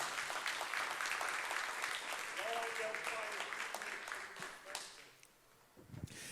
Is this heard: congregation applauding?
yes